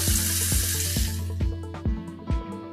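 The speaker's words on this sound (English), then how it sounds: "And over and straight in to our little deep fat fryer that I've created over here." Beer-battered skate pieces hiss as they drop into a small homemade deep fat fryer; a bright, steady sizzle fades under a run of regular low thumps and tones.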